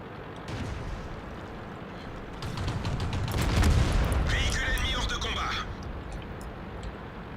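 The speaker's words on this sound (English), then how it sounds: "there's their artillery now" Artillery fire in World of Tanks: a swelling, rumbling boom builds and peaks mid-clip, followed by a scattered crackle, with a voice talking over it.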